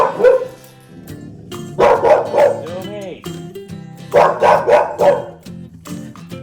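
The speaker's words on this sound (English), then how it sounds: "Kasumi was barking just a little bit because she saw another dog outside" Kasumi the dog barks at another dog outside in two short bursts of close, loud woofs, with a whimpering whine between them.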